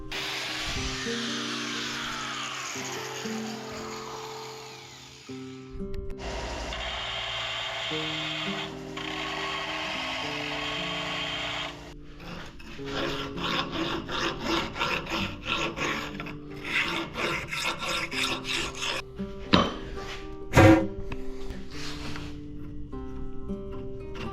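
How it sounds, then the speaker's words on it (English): A metal tube end is cut down by seven-eighths of an inch to repair a heim joint. Harsh, close rasping comes in bursts, moving from smooth grinding to rapid choppy strokes, with a couple of sharp clanks near the end. "cut 7/8 of an inch off of the end of this tube"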